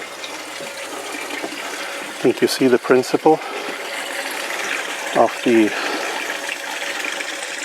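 A Kegland Bucket Blaster pump forces water through a Brewtools CIP spray ball inside a keg, making a steady rushing hiss of spraying water while someone speaks briefly over it.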